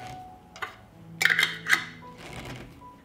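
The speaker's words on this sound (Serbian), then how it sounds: "I zatvorit ćemo sa čistim i novim poklopcima." Clean new metal lids being fitted onto glass jars of home-canned food: a cluster of sharp clicks and clinks in the middle, fairly close, over quiet room background.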